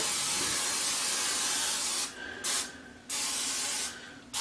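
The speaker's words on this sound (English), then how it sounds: "I'm gonna give it some cooking spray." Several short hissing bursts of cooking spray from an aerosol can onto a glass, each lasting under half a second, close by and fairly loud.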